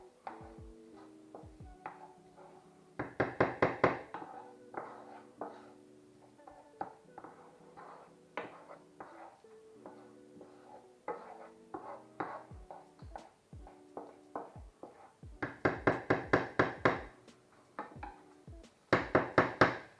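A spoon or spatula stirs a creamy tomato pasta sauce in a pan, giving repeated knocks and scrapes against the metal in short irregular bursts, with a few clustered clatters and quieter gaps between.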